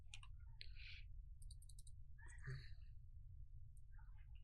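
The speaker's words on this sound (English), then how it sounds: "I'm just right-clicking on pants and selecting throw away" Mouse clicks at a computer while operating a game inventory in Unreal Engine 5: a few sparse, soft clicks scattered over a steady low electrical hum.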